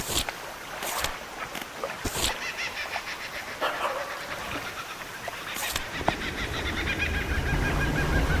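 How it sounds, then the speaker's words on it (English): A dog barks repeatedly in the fishing video game Dredge, sharp yaps spread over several seconds against steady boat and water ambience, with quacking-like calls mixed in. "Crazy dog."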